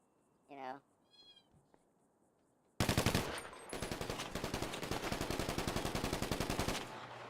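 Rapid automatic gunfire from GTA roleplay, loud and close, bursts out after a few quiet moments and a short cat-like meow, then runs as a long steady rattle of shots for about four seconds before stopping.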